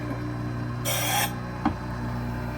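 A Wissota 911 sharpener grinds a carbon steel ice skate blade at a rink, a single short, bright grinding pass of about half a second followed by a faint click, over a steady machine hum.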